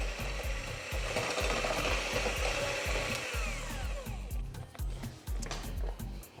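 Melted batter with added baking powder is whisked briskly in a bowl, making a steady, loud, rhythmic scraping and churning close by. The whisking eases off toward the end.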